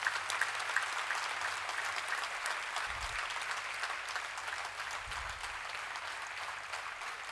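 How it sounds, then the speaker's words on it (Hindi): Applause from an audience at a gathering in Pune, a fairly distant, moderate wash of many hands clapping steadily for the whole stretch, with faint low thumps underneath. "आशु भैया के लिए एक बार जोरदार तालियां हो जाए"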